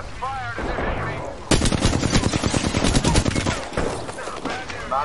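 Rapid automatic gunfire in the Apex Legends video game, a dense burst of shots running from about midway to near the end, loud and close, with faint talk and effects before it.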